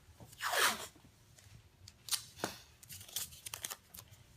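Tape is ripped off a roll in one quick, close rasp to mask the frame gap of a glass powder sifting screen, followed by softer crinkles and a few brief tearing sounds.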